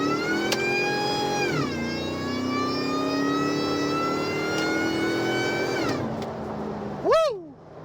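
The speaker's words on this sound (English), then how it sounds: "I love the sound of the supercharger" A supercharged 2001 Ford Lightning pickup truck pulls hard in first gear, engine and blower whine rising steadily and loud, easing off near the end before a brief sharp sweep of sound.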